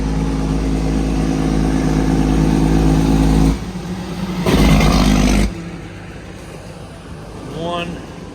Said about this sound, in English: Dump truck after dump truck after dump truck.